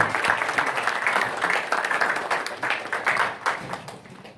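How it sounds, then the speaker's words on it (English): An audience at a BNI business networking meeting gives presenter Sam a big round of applause, continuous dense clapping that holds steady and then thins toward the end. "give a big round of applause to Sam."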